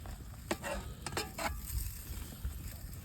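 Spam browns in a Dutch oven over a campfire, a soft sizzle running under several sharp scraping stirs near the start, then a steady low frying hiss.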